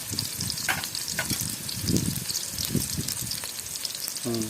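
Onions fry in already hot oil in a pan for gobi manchurian, crackling and sizzling loudly with uneven bursts and stirring clicks, and a voice cuts in briefly at the very end.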